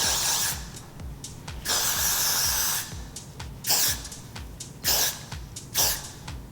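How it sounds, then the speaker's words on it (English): Freeze spray from an aerosol can misted onto hair for a sleek wavy wig ponytail, several short hissing bursts at close range, alone with no talking. "I'm going to follow up with my freeze spray and just"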